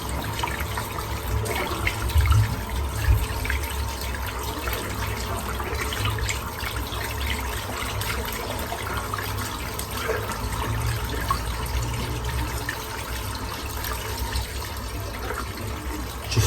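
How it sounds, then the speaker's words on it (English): Tap water runs steadily to rinse shaving soap out during a menthol lather shave, a continuous close rushing splash with no talk over it. "Rinse out the soap."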